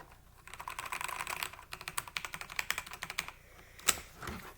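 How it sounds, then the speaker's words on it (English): Typing on a newmen GM326X computer keyboard: a steady run of quick, close key clacks with irregular rhythm, a louder space-bar-like thump near the end, and no talking. "But I'm gonna give it a typing test,"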